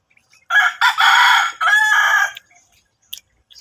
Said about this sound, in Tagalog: may mga manok dito talaga